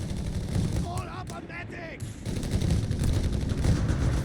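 Rifles and BAR automatic weapons fire in rapid, dense bursts during a battle in the strategy game Company of Heroes 3, loud and continuous, with brief voice-like sounds in the middle.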